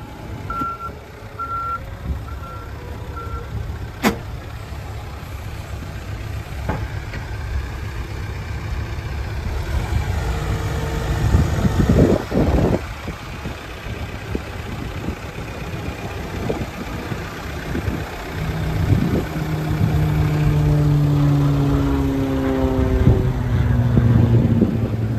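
A 2016–2017 Case 590SN backhoe loader engine runs at a steady, fairly quiet idle, with a reversing beeper chirping near the start and engine tone shifting later on.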